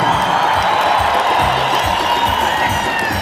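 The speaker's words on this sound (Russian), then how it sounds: "крики и аплодисменты подтвердили, что здесь поклонники творчества здесь, Таджикистан, в этом зале" An audience in a concert hall at a Navruz celebration for Tajikistan cheers, whoops and applauds. The steady, loud roar of shouts and clapping continues throughout, with whistle-like high calls rising above it.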